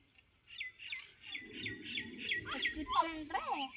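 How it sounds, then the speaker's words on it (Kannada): Birds in a village give a run of repeated squawking calls, evenly spaced and fairly close, rising into louder, busier cries toward the end over a quiet background. "ಎಷ್ಟು ಚೆನ್ನಾಗಿ ಕೇಳಿಸುತ್ತೆ ನೋಡು ಪಕ್ಷಿ ಸೌಂಡ್ ಎಲ್ಲ"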